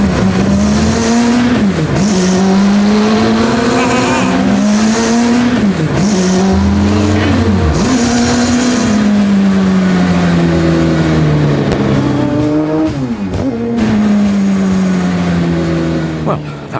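A car pulls away in first gear near a whisky distillery on Islay, its engine note rising and falling through several loud revs, with voices talking over it.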